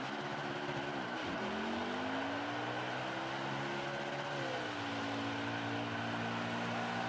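A stock car doing a burnout in the racing video game Nascar Heat 5, a sustained droning engine note that rises and falls in pitch as the revs shift, steady and moderately quiet with no voices.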